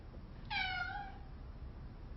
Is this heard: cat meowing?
yes